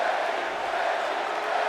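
A wrestling arena crowd in WWE 2K SmackDown roars as a steady, distant wash of cheering and crowd noise, continuous and fairly loud with no clear breaks.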